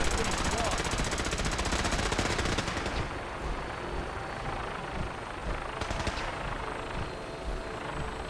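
Dense rapid gunfire rattles at a firing range in Fallout 4, loud and continuous for about three seconds. A rumbling engine-like drone and a voice continue underneath afterwards.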